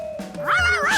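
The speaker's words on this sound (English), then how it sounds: "A barking Charky was even worse than a puddle" Cartoon dog barking and yipping in a short, close burst of high, bright yaps over a steady tone, no talk.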